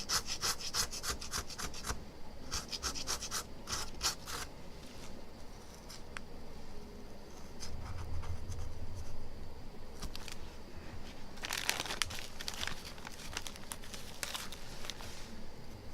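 A plastic knife scraping and prying apart the layers of an LCD screen on a bonding machine, giving repeated close scratchy rubbing strokes in bursts, with no talking.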